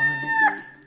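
A rooster crows once, a loud, close, strained call that rises and then trails off, with no other sounds around it.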